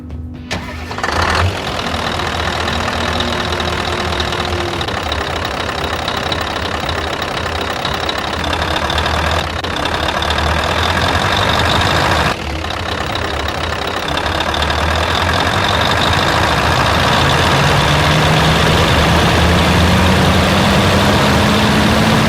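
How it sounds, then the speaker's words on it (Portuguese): A diesel engine cranks, catches and settles into a loud, steady running rumble with a knocking clatter, heard up close for about twenty seconds without talk, with a rising whine appearing near the end. "o triunfo da engenharia mecânica, o motor diesel."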